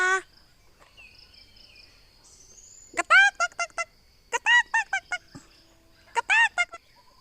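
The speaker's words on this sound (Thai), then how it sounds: "ว้ายไก่ป่าเต็มเลย ไก่ป่า" Wild junglefowl crow in short, loud, repeated bursts in three clusters against quiet, steady insect chirping outdoors, with no talk.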